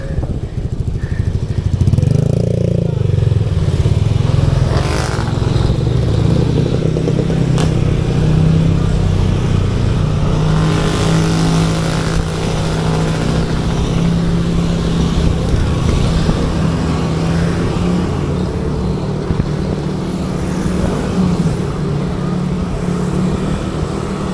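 Steady road traffic rumbles on a steep uphill climb of the Laguna Loop, with a truck's engine drone and motor vehicles passing close by, loud and continuous throughout.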